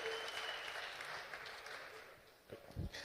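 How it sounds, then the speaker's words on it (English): An audience at a book launch applauds: steady, moderately distant clapping from a crowd, fading slightly, with a few louder thumps near the end. "A big round of applause for Ubandile Sikwane, please."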